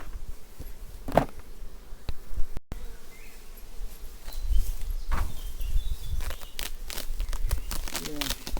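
Honeybees buzz around hive frames during a beehive inspection, a steady close drone broken by brief crinkling and handling knocks.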